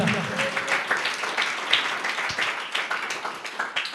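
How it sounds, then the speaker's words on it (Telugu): A church congregation at a Sunday service claps loudly and steadily, dense continuous applause filling the room for several seconds, with a voice faintly under it. "స్థిరంగా చేసే దేవునికి కొంచెం గట్టిగా చప్పట్లు కొడితే మంచిగా ఉంటుంది."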